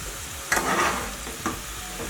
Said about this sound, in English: So just drain off the oil, transfer this.